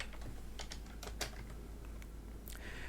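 Quick, uneven clicks of typing on a computer keyboard, light and close, with short bursts and pauses and no voices.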